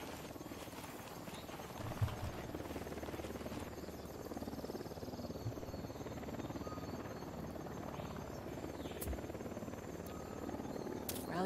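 A helicopter in Ghost Recon Wildlands, a steady dense rotor drone that fills the scene throughout, with occasional sharp thuds mixed in.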